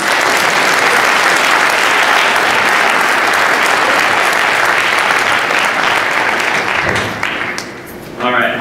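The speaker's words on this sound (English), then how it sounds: "One last big round of applause for this group." A tech meetup audience gives sustained applause, dense and loud, lasting several seconds before fading, with a voice starting to speak as it dies down.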